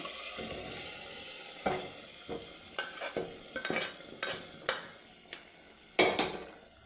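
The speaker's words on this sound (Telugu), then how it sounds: "ఇది పప్పు ఉడకబెట్టింది దీంట్లో వేసేస్తున్నానండి" Boiled lentils going into ridge gourd frying in a pan, with a steady sizzle under repeated sharp stirring scrapes and clatters of a spoon, near and fairly quiet.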